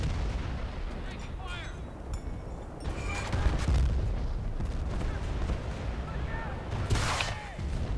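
In Battlefield: Bad Company 2, tank cannon blasts and gunfire rumble through a dense battlefield soundscape, heavy booms layered with bursts of shots and a few distant whistles, with voices breaking through now and then.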